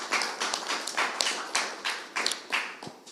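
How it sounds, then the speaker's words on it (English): A conference session audience at the COP28 climate summit on loss and damage funding gives applause, with steady, fairly even claps ringing out close and clear without talk. "Maybe we can give an applause for that."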